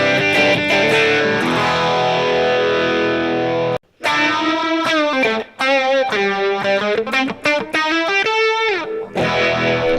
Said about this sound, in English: A really awesome sound that you've probably heard a lot is a pedal phaser before a distortion